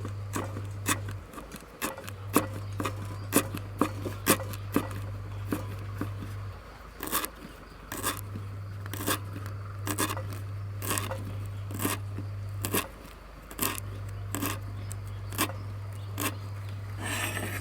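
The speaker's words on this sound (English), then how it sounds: "Roll it like this, and then you can chop anywhere you want. Thinly chop." A knife chops rolled leaves into thin strips, giving quick, crisp taps against a cutting board in steady runs with short pauses, close and clear over a low steady hum.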